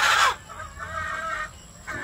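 Hens with a brood cock in a gamefowl breeding pen: a loud squawk at first, then drawn-out clucking calls nearby, with a brief louder call near the end and no talking.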